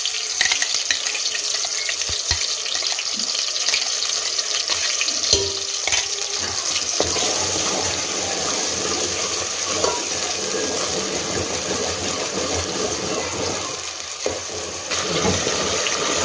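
Onion and tomato paste sizzles steadily in a spoonful of hot oil for pav bhaji, a dense close hiss with occasional scraping and clinking from stirring utensils, and no voices.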